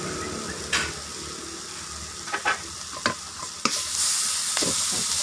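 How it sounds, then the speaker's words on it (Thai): Chicken stirred in a hot wok, with a continuous close sizzle broken by several scraping, clattering strokes of the utensil against the pan, no voices. "คนไปคนมาแป๊บเดียว"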